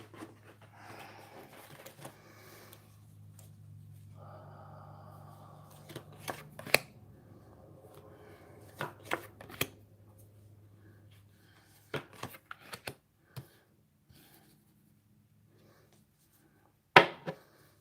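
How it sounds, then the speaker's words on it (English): Tarot cards dropped and shuffled during a live reading, with soft riffling flutters and several sharp slaps of cards landing on a table, spread out over a low steady hum. "I'm dropping cards everywhere"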